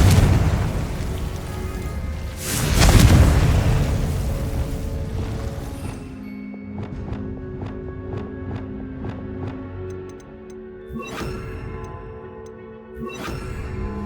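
A Confringo blasting spell in Hogwarts Legacy gameplay erupts in a loud rumbling boom around the third second, fading into a quieter stretch with ringing, chiming game effects.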